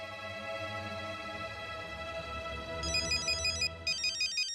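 A mobile phone ringtone plays for an incoming call, a steady melodic electronic tone that switches to a faster repeating chirping pattern partway through, close and clear with no talking over it.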